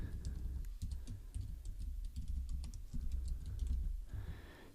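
Computer keyboard keys being typed in a steady patter of quiet clicks, logging a username into a webmail login page, close and fairly soft with no speech.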